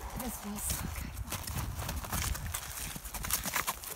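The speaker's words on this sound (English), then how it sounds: "Manny, how was your first horse ride?" Horse hooves clip-clop steadily throughout a horseback ride, in a continuous rhythmic patter with wind noise, while people talk over them close by.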